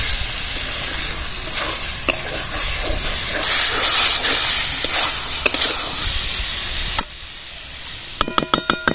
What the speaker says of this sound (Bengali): এবার পটল ভাজাগুলো দিয়ে দেবো